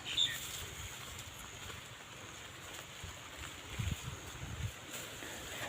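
Continuous rain on its second day falls steadily, a soft, even, fairly distant patter and hiss with a few faint low knocks, no voices.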